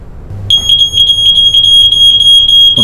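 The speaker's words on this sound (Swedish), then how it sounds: "Alldeles strax går brandvarnaren igång." A residential smoke detector in a bedroom-like training room sounds off, a loud, piercing, high-pitched electronic tone pulsing in rapid repeated beeps after a brief quiet start.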